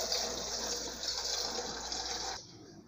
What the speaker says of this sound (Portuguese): A gente vai colocar água.